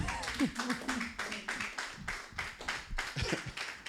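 A church congregation claps during a Sunday teaching service, rhythmic hand claps repeating about twice a second, close and moderately loud, mixed with voices.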